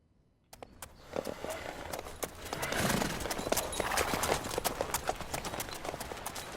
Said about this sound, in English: Our poor horse, man.